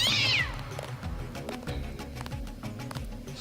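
A cat in the video game Deus Ex lets out a short, clear meow at the very start, followed by steady low game ambience and music with no talking.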